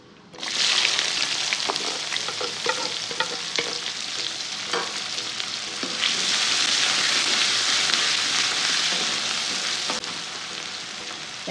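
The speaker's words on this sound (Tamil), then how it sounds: "வெங்காயம் நல்லா வதங்கட்டும்" Loud, steady sizzling of a large onion frying in hot oil, with a spoon scraping and stirring now and then; the hiss swells midway.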